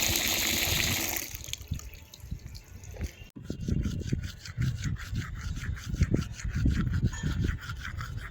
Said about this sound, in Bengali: আগে ব্রাশটা করে নিই